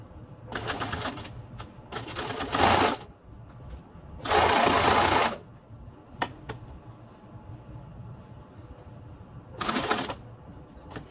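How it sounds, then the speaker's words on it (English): Bursts of sewing machine stitching fabric for boxed cushions start and stop in short runs, a rapid mechanical whir separated by quiet pauses and small clicks. "So we are back at the sewing machine"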